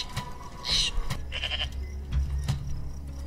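A microwave in a video game gives out short goat bleats, a few brief nasal cries over busy game background noise.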